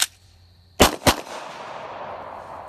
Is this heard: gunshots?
yes